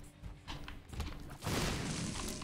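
Explosions in the game The Binding of Isaac go off, a few dull thuds followed by a loud crashing blast that lingers as a rumbling burst.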